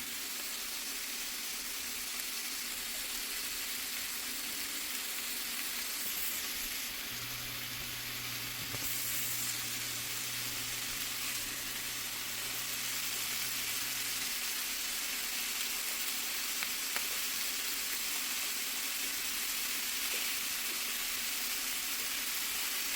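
Cheesesteak filling simmering in a Lodge cast iron pan gives a steady, soft sizzle and bubbling hiss that holds evenly throughout, fairly quiet, with a faint hum in the background.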